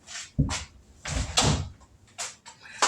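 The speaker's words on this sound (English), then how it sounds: "Let me shut this door." A door in a home entryway is pushed shut close by, making a few knocks and thuds with a short rattle in between. No one speaks.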